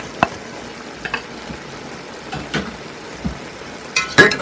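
A spoon stirring and mixing vegetable rice with egg in a pan, giving scattered scraping and clinking strokes over a quiet sizzle, close by with no talking.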